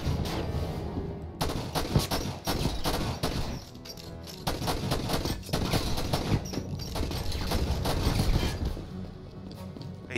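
Rapid gunfire from the video game Enter The Matrix, dense bursts of repeated sharp shots in quick succession with brief gaps, loud and continuous over game background sound.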